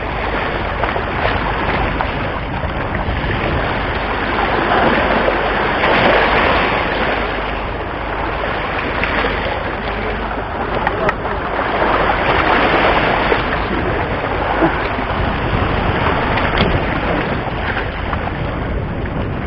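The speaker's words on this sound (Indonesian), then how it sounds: "Anginnya juga kenceng banget." Strong wind blows across a rocky estuary edge during shore fishing at Muara Baru. A steady, loud roar of gusts buffets the microphone throughout, with no talking.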